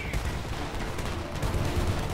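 Dense, continuous gunfire with overlapping bursts and explosions in the war shooter game Homefront, a loud, busy battle din throughout.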